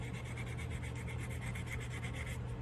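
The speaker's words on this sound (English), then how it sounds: "sanding down to the better part of the cane," Steady rasping rub of sandpaper against a polymer clay cane earring, continuous and close with an even rhythmic scrape throughout, no voices.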